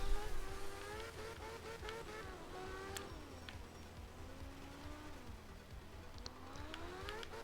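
Rally car engine in the art of rally video game, a steady droning note that rises and falls with gear changes and revs, heard alone at a moderate level in wet conditions.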